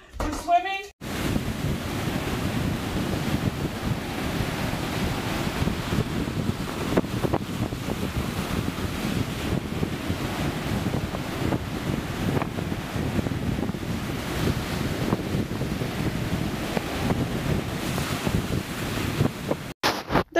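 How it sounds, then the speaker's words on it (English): Ocean waves wash onto a beach on a sunny day, a steady broad roar mixed with wind buffeting the microphone that runs unbroken for the whole stretch. "now we're at the beach enjoying a sunny day"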